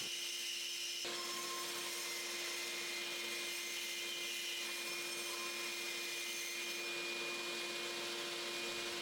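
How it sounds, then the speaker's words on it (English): Small bandsaw with a narrow blade cutting a curve in wood for a bandsaw box, a steady whining motor hum with a sustained rasping cut that begins after a second and continues evenly throughout. "I'm going to switch to the smaller bandsaw with the smaller blade for both this curve and for cleaning up the inside here"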